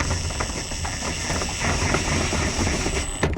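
Rapid, dense clicking of a ratchet tightening a bolt beneath the intake of a 2010 Gen3 Prius hybrid, close up and continuous over a steady background hum.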